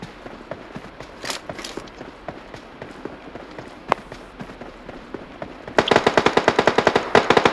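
BGMI game gunfire: scattered single shots and footsteps, then a loud rapid automatic burst of evenly spaced shots in the final seconds, close and dominant.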